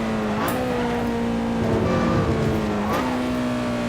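A Lotus Exige 240R on the Nordschleife drones at steady high revs with loud wind roar, then the engine note drops sharply twice as it downshifts and slows for a corner.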